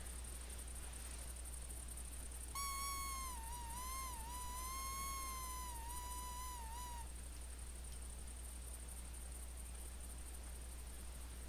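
A coyote call in theHunter hunting game gives a single drawn-out, wavering whine lasting a few seconds, faint against a steady background hiss, with quiet surroundings before and after.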